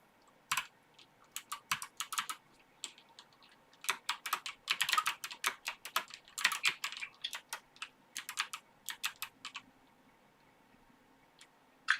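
Rapid bursts of keystrokes on a computer keyboard during a book review livestream, clicking in uneven clusters with short pauses, close and fairly quiet with no talking.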